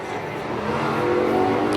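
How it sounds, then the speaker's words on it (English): A sprint race car roars past the start-finish line at Dixieland Speedway in a Virginia Sprint Series heat race, a loud, close engine snarl that rises steadily with the pass. "1 lap shy of the halfway mark as your leader flashes by the start-finish line"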